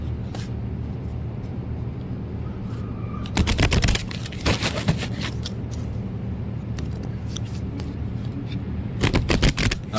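Tarot cards being shuffled close by, with bursts of riffling and flicking around four to five seconds in and again near the end over a steady low room hum.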